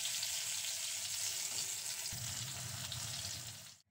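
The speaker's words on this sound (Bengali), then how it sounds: "সব কটা পটল তুলে নিয়ে আবার ওই তেলের মধ্যেই বাকি পটলগুলোকেও ভেজে নেব।" Pointed gourd (potol) pieces frying in hot oil, a dense, even crackling sizzle up close for a few seconds before cutting off abruptly, with no speech.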